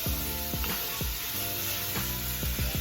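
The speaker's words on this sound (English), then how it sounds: "Now I'm putting the vegetables right over on top of that good grease." Vegetables sizzling in andouille sausage grease and seasonings for red beans and rice make a constant loud frying hiss, with a few spoon or spatula knocks and stirs.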